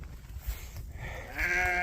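Sheep bleat close by on a farm, with a low rumble first and then a loud, wavering bleat that rises and holds toward the end.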